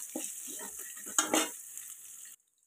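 Green chillies and onion sizzle in a hot pan while being stirred, with a short burst of frying and scraping before it cuts to silence.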